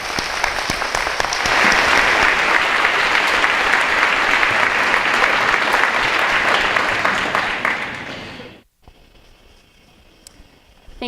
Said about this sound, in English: I would like all of you to give a great round of applause